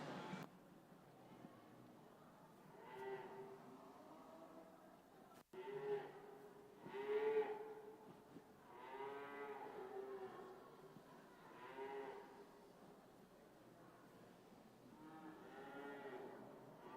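Junior and senior heifers at a cattle show bellowing repeatedly, drawn-out moos coming every couple of seconds at moderate distance over a quiet hall background, with a sharp knock partway through.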